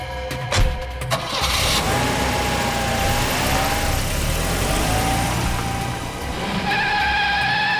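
A car engine cranks, catches and revs to a steady roar that rises and falls, loud and close, with no speech over it.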